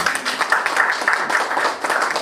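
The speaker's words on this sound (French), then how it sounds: "Applaudissons encore pour Papa Thomas." An audience at a tribute gathering applauds Papa Thomas with steady, dense clapping that stays continuous and fairly loud throughout.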